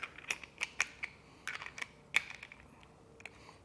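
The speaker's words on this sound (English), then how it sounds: "we want to thread that all the way down in there" An 11/16 socket threads a bolt down into a B&W Patriot 5th wheel trailer hitch with slider, giving sparse, light metallic clicks and clinks at an irregular rhythm, close and fairly quiet.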